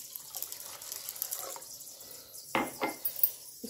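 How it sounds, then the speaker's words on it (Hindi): Water poured into a pan of roasted chana dal, splashing and gurgling in short close bursts after quieter background noise. "देखिए मैं इसमें पानी डाल देती हूँ"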